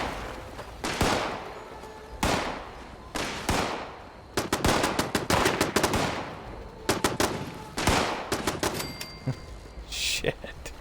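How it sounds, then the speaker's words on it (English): Enemy gunfire in Fallout 76 comes as loud bursts of rapid automatic fire mixed with single shots, recurring across the stretch, with a voice speaking in places. "They're fucking shooting at me."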